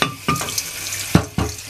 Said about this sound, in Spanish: yo voy a echarle un chorrito de agua a la taza de la licuadora